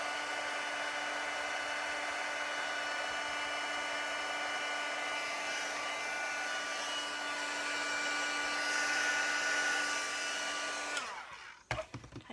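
A hair dryer blows steadily on thick paint, a loud constant whine that runs unbroken for about eleven seconds before cutting off abruptly, leaving a few brief knocks and handling sounds.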